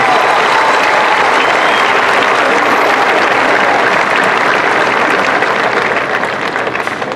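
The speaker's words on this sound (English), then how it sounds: "Please give these students a round of applause for their dedication." Audience applause at a high school graduation ceremony, loud, sustained and dense clapping from a large crowd that continues evenly for several seconds and fades slightly at the end.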